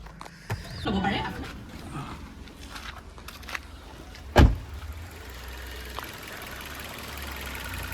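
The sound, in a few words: Maruti Suzuki Ignis 4-cylinder petrol engine running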